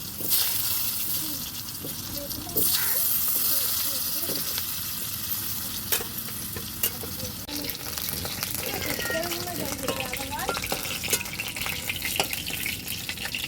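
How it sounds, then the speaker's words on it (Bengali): Potato strips frying in the oil left from frying rohu fish, a continuous close sizzle with occasional sharp clicks and stirring, while a voice speaks briefly partway through. "তো এই তেলে আমি আলুটা ভেজে নেবো।"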